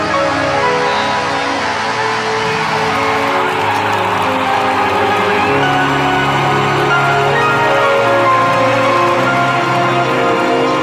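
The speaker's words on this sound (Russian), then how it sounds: "Прошу вас, искупайте ее в аплодисменты." Audience applause and ovation fill a hall at a 2010 seminar, a steady dense wash of clapping sustained throughout, loud and continuous with a faint crowd murmur.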